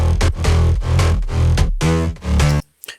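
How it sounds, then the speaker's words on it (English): A soloed synth bass line layered with sub bass from a future house track, playing loud rhythmic notes in short bursts, cutting off abruptly into near silence near the end. "First, I'm just going to solo the bass line and the sub bass"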